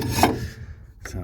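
A screwdriver scrapes and pokes at the rusty boot floor of a barn-find Morris Minor, giving a short rasping scrape, a brief pause, then a second quick scratch, close up.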